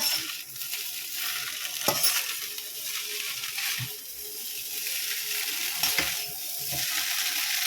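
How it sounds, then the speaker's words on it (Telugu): Egg noodles tossed with sauce in a wok, a steady scraping stir over soft sizzle with a few sharper clanks of the spatula against the pan, close and moderately loud, no talking. "సాస్ అంతా కలిసేంత వరకు మంచిగా కలుపుకుందాం"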